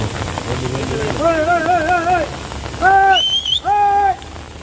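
Heavy rain pours at a hillside landslide site beside the Karwar–Ilkal highway, a dense continuous hiss under loud, tonal calling voices that rise and fall over it.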